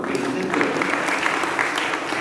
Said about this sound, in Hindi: इनके लिए ताली तो बजाओ।